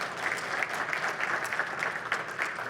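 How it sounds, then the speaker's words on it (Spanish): Dense, sustained applause from a conference audience for the speakers at a technical talks event, many hands clapping together at a steady even level throughout. "Y un fuerte aplauso para nuestros ponentes."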